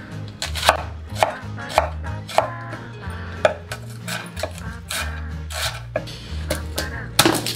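A knife chops a whole onion on a cutting board for chili, a quick steady run of crisp, close, loud thwacks with a dull board thump under each stroke and no speech.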